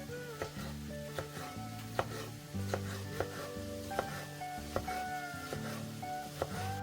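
A knife chops pickled cucumbers into thin strips on a board, with regular, crisp close-up strikes at a steady pace, about a dozen cuts, over faint kitchen background.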